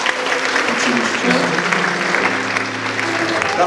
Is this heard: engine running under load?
no